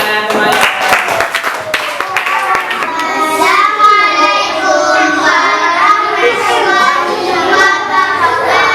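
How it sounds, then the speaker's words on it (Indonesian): Applause breaks out in a classroom as a student group comes up to present, many hands clapping loudly and steadily, with children's voices mixed in throughout. "Beri tepuk tangan semuanya."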